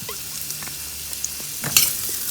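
Pieces of boucané, Réunion-style smoked pork, fry in a thin splash of oil with a soft, steady sizzle, broken by a few light stirring clicks and a brief louder crackle near the end.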